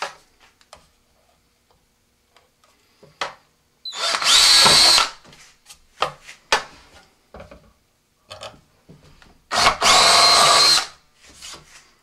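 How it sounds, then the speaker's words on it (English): A power drill bores pilot holes in a model rocket booster fin can, two loud sustained whirring bursts separated by quieter clicks and handling noises. "Just going to drill a couple of pilot holes and then enlarge them to about an eighth of an inch."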